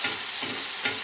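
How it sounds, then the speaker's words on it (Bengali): Prawns fry on a hot tawa with a close, steady sizzle and crackle, pulsing slightly as they are moved about, with no voices. "তাওয়ার মধ্যেই ফ্রাই করে নিই"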